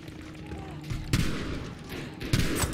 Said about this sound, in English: I just live to shoot this gun.